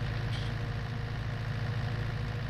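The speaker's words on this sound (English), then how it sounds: "This isn't a four-wheel drive tractor, so it's having a little bit of problems." A simulated two-wheel-drive tractor labours in a deep mud hole in Farming Simulator 19, its engine droning in a constant low, heavy rumble with no pauses, close and steady.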